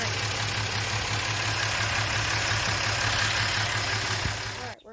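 A car engine undergoing a compression check idles steadily with a loud, even rumble, then cuts off abruptly near the end, leaving a brief faint voice.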